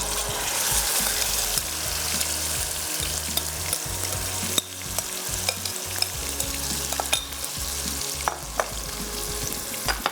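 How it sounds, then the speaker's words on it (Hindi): Chicken pieces fry in hot oil over high heat with a dense, continuous crackling sizzle, punctuated by sharper pops and stirring scrapes. "चिकन को फ्राई, तेज़ आंच पे फ्राई करेंगे तो चिकन हमारी हमेशा जूसी रहेगी।"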